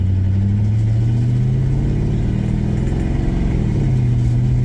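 A 1985 Chevy C30 truck, swapped from diesel to a gas engine with a junk carburetor, drives along with a loud, steady engine drone, rising in pitch and then dropping as it shifts gears.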